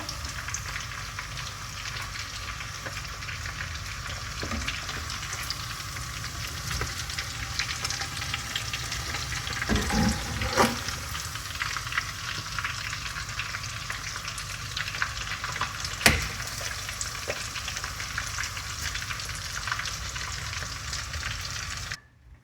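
Battered shrimp frying in a pan, a dense, steady crackling sizzle that fills the whole stretch, with a few brief louder pops and clinks along the way before it cuts off abruptly.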